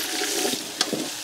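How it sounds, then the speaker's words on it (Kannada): Brinjal pieces frying in oil for North Karnataka ennegayi, a brief steady sizzle with a couple of soft stirring knocks. "ಇದೀಗ ಬದನೆಯನ್ನು ಹಾಕ್ತಾ ಇದ್ದಾರೆ ನೋಡಿ"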